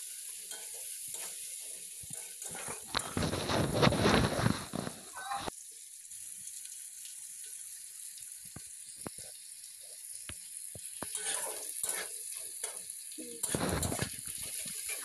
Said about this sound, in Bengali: পেঁয়াজটাকে লাল লাল করে ভেজে নিচ্ছি, ব্রাউন কালার করে।